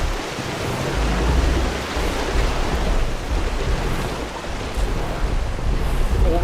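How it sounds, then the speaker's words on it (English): Rushing waterfall in the ARK Survival Ascended game, a steady broadband roar of falling water that holds at an even, loud level throughout with no voices. "we get to go over a waterfall."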